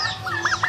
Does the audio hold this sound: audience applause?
no